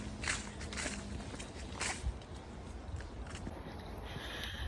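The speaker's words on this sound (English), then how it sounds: "I love the sound of the leaves crunching under my feet." Footsteps crunch through fallen leaves along an outdoor trail: a steady walking rhythm of close, dry, rustling crunches that fill the whole stretch, with no talking.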